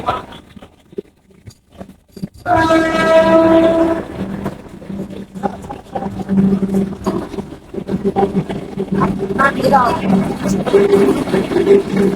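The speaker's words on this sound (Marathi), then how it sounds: "बघू शकता वंदे भारत आलेले चारचा टाइम पाहुणे चारला आले" A Vande Bharat Express train sounds a loud horn, then rumbles and clatters closer as it pulls into the station, with people talking in the background.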